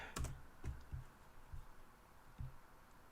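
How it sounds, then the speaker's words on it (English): Several quick keystrokes clatter on a computer keyboard during a livestream, a few separate clicks spaced unevenly, faint and close, with no talking. "Apologies for any typing."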